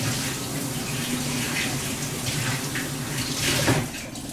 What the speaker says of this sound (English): We'll give it a little rinse, right?